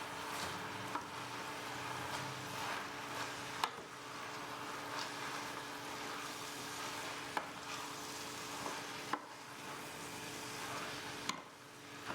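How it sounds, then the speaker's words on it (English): Spaghetti squash stirred with wilted spinach in a hot pan, a steady low sizzle broken by soft scraping stirs and occasional spoon knocks, close and quiet. "When the spinach is wilted, add the spaghetti squash to the pan. Stir to combine."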